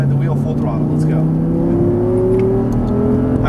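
An Audi R8 V10 accelerates at full throttle on the Auto Club Speedway track, its engine pitch climbing steadily through the gear, heard from inside the cabin beneath an instructor's talk.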